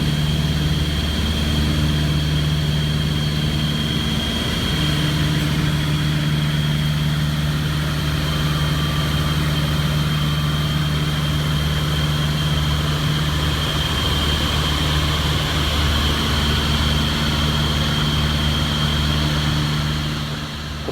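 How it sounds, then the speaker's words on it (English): A Piper Twin Comanche twin-engine aircraft drones steadily in flight over the south of France, a continuous loud engine and propeller hum with an unchanging tone throughout. "a video clip we took last summer of flying the twin Comanche in the south of France"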